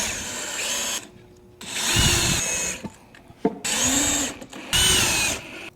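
A power drill driving screws into a CNC-cut cabinet box with dado joints, three or four close, whirring bursts of a couple of seconds each separated by brief quiet gaps and small clicks.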